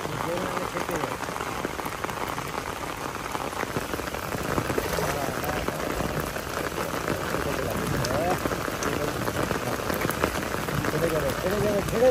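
Rain falls steadily on a fishing pond during a hook-fishing outing, a dense, even patter of drops on the water and nearby surfaces that runs throughout, with voices talking faintly beneath.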